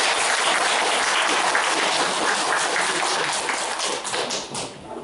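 Audience applause at a residents' association meeting with the Haeundae district head in Korea, a dense, loud burst of many hands clapping that holds steady and then tapers off toward the end.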